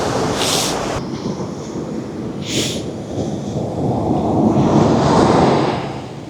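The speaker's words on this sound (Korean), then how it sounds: "오늘도 파도가 어마어마하네요" Large winter sea waves surge and crash onto a cold shore during a shore-casting fishing session for conger eel, a loud, continuous roaring wash with heavier breaking swells rising near the end.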